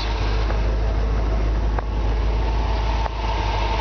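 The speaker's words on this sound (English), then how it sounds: "You can hear just the engine just purrs like a kitten." A 1977 Corvette engine idles with a steady, low rumble, close and loud, holding an even tone throughout.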